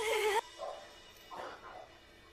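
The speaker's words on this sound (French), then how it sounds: "Gentille chien, tu te rappelles de moi?" A dog whimpers and yips in a film scene, a high whining cry at the start followed by softer short whines, close and fairly quiet.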